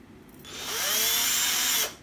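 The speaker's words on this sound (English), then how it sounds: "let the drill wind all the twine together" An electric drill twisting twine whirs up to a steady high-pitched spin, runs for about a second, then stops abruptly; close and fairly loud.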